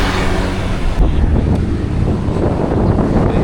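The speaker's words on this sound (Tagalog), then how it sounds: "Mahangin." Wind buffeting a microphone at a hilltop rest stop during a cycling ride to Tagaytay, a steady low rumbling roar that runs the whole time with no talk.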